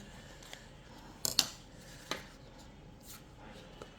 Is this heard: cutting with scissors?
yes